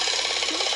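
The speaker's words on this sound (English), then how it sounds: "You got a torque wrench?" A torque wrench ratchets rapidly and steadily on a motorbike that won't start because of off timing, giving a continuous close mechanical clicking with no voices.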